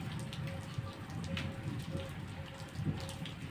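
Rain falls steadily and fairly quietly as a continuous hiss with patters of drops, with a faint tonal hum running through it and no talk.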